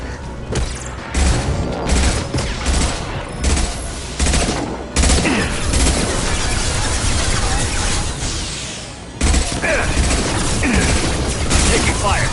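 Heavy gunfire from a Mass Effect 2 firefight on PS4, with dense bursts of automatic fire and booming shots running almost nonstop, loud and close, with a brief lull near the end.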